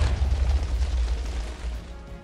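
A Minecraft creeper blows up with a deep, muffled boom that rumbles low and fades out over about two seconds, heard alone without speech.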